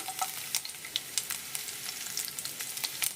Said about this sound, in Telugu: ఇప్పుడు దీంట్లో మనం వెల్లుల్లిపాయ రెబ్బలు వేస్తున్నానండి